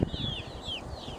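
Hens cluck in a sunny outdoor enclosure on a broiler chicken farm in southern France: soft, scattered clucks and chirps sit over a low, steady background of farmyard noise, with no talking.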